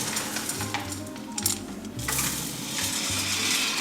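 Wood pellets poured into a pellet stove hopper make a continuous close rattling, hissing cascade of small hard granules, with brief clinks and surges as the pour shifts.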